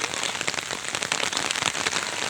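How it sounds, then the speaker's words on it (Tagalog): Heavy rain falling in Tagaytay City fills the scene with a loud, unbroken hiss and dense pattering of drops striking nearby surfaces, with no voices. "Ayan, no? Laka na din na ulan."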